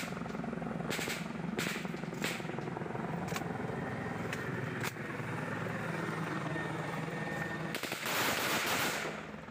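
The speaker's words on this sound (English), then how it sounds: "shows the TPN shooting at what appears to be a Bell 412 helicopter" Rifle fire from fighters shooting at a Bell 412 helicopter during conflict in West Papua, several sharp cracks in an irregular series over the helicopter's steady distant rotor drone, outdoors and fairly faint.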